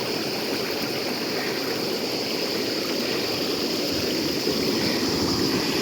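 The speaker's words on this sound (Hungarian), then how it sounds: "olyan erővel a kövek alól tör elő a patak" A mountain stream gushes forcefully from under rocks near the Souli watermills above the Acheron River in Epirus, Greece, a loud, steady broadband rush of water that holds unbroken and close throughout.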